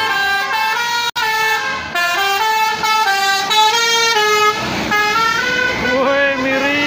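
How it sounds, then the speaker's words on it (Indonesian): Large tour buses arriving at the crowded Pinus Pengger tourist site, sounding long, loud, melodic multi-tone horns that shift pitch in a repeated tune, with a brief gap near the start and engine rumble underneath. "Oke, dua unit bus besar."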